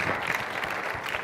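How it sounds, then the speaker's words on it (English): An audience at a tech conference session on music software claps steadily for about a second, a dense, even patter of many hands close to the microphone with no voices over it. "All the applause for the effect of one line."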